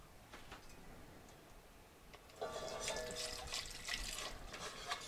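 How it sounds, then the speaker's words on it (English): Milk poured into a pot while making hot cocoa: a soft, steady liquid stream splashing in the kitchen, fairly faint, with light clinks and trickling behind it. "We're gonna start adding our milk."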